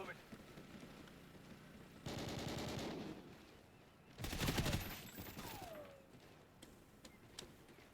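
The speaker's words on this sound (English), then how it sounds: "He was shooting at something over here." Rapid gunfire bursts from a video game, Kinki Spiritual Affairs Bureau, come in two loud rattling volleys a couple of seconds apart, with quieter clicks and game sounds between them.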